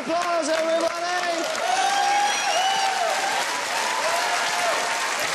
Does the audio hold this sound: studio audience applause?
yes